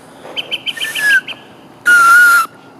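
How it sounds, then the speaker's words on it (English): A blade of grass is pinched between the fingers and blown as a whistle: a quick series of short squeaky toots, then two longer shrill blasts, loud and close. "I'm going to stick it in the middle with my fingers. Squeeze it tight, and I'm going to make a whistle."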